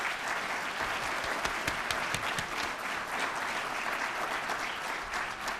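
An event audience applauding, dense sustained clapping from many hands in a hall, loud and steady across the whole stretch with no talk over it.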